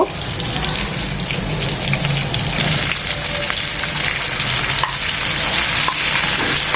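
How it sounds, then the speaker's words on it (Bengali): Shrimp frying in oil after being turned to cook the other side, a steady close sizzle with light stirring and clinks throughout, loud and continuous with no talking. "এবার ওপাশটাও দু মিনিট ভেজে নেব"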